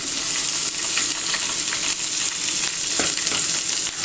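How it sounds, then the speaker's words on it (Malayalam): Chopped capsicum sautés in two tablespoons of oil in a pan, a loud, dense, steady sizzle with light stirring scrapes running through it and no speech. "നമ്മളൊരു പാനിലേക്ക് രണ്ട് ടേബിൾ സ്പൂൺ ഓയിൽ ഒഴിച്ചു കൊടുത്തിട്ടുണ്ട് അതിലേക്ക് നമ്മൾ അരിഞ്ഞു വെച്ച കാപ്സിക്കം ഇട്ട് കൊടുക്കാം"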